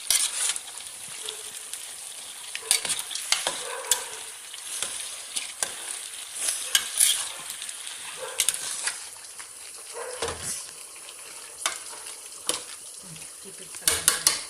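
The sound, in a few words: chicken with spices being stirred in a pot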